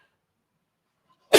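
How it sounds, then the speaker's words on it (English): A single sharp sneeze bursts out near the end after a stretch of near silence, loud and close. "Excuse me, I'm going to sneeze."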